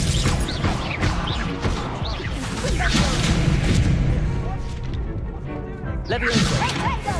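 Hogwarts Legacy combat with the Expelliarmus spell: whip-like cracks, whooshes and crashing impacts pile up over several seconds, loud and busy, with shouted voices mixed through the fight.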